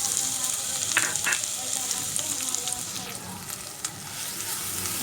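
Grated carrot frying in a pan gives a continuous, even sizzle close by, with a few faint stirring scrapes and no voices.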